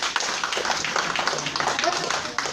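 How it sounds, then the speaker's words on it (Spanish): Audience applause for a teacher at a talk, a steady patter of many hands clapping at moderate loudness throughout, with a voice speaking briefly over it. "un aplauso al maestro Oscar López"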